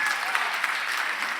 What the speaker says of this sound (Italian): Un applauso a Cristina.